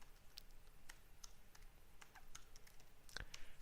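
Keystrokes on a computer keyboard while entering a host name during a Kali Linux install in VirtualBox, a quiet, uneven run of light clicks with a slightly louder burst near the end.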